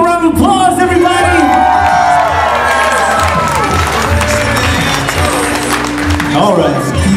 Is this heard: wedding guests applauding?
yes